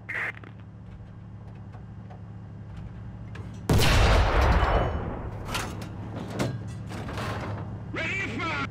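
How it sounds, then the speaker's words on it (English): Tank cannon fire in the War Thunder ground-forces game: one loud, close boom bursts out and rolls away, followed by smaller thuds and clanks under low engine rumble. "Fire a few shots at the tank."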